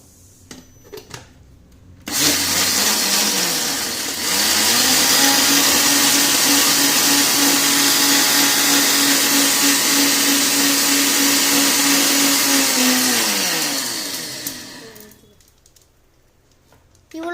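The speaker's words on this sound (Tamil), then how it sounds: "உங்களுக்கு வீட்டில் என்ன மிக்ஸி இருக்கோ அதுலேயே அடிக்கலாம்." A kitchen mixer grinder whirs loudly and steadily for about ten seconds blending a summer drink with sugar, starting abruptly and winding down at the end, with brief clatter before and after.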